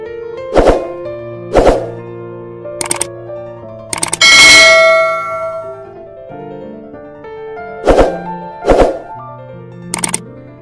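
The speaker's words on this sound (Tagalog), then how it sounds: "the notification bell." A notification bell sound effect plays as a series of bright, ringing ding strikes with short decays, arriving in pairs and clusters, with one longer shimmering swell in the middle.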